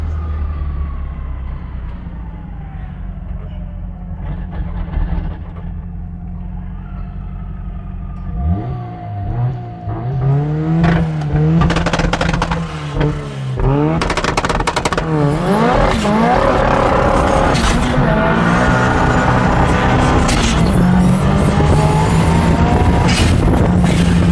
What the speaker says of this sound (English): Who doesn't love the sound of a turbo spooling?